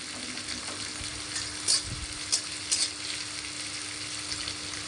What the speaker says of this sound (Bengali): কুচনো পেঁয়াজগুলো দিয়ে দেব। ভালো করে ভেজে নেব ওগুলোকে